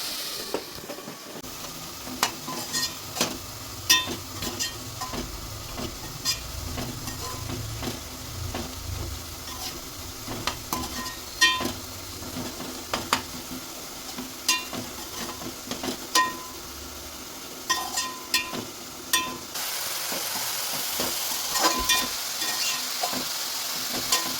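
Tomatoes and spinach sizzle and fry in a pan for a quick palak tomato curry, with steady close frying noise and frequent sharp clicks and scrapes of stirring throughout and no voices.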